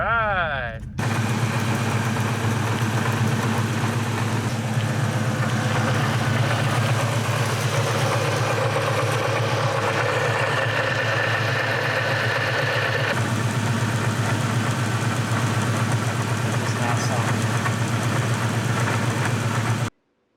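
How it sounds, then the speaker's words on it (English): A supercharged Ford Mustang engine idles with a steady low rumble and a harsh mechanical rattle, suspected rotor contact or a failing bearing, running continuously at close range before cutting off abruptly. "So it looks like there might be some rotor-on-rotor contact, possible bearing failure."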